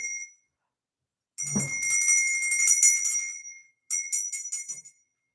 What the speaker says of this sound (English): I don't know why it's ringing differently. That's a handmade bell